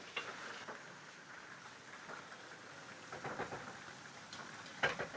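Steady rain falls in a rural village in Muğla, Turkey, with a soft continuous hiss and a few sharper drips and patters, quiet and fairly even throughout.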